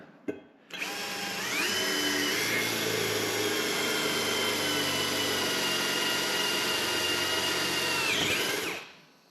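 An annular cutter bores into steel while building a floating foundation for a house addition. After a sharp click, the cutter's loud, steady whine holds for about eight seconds with no talk, then winds down.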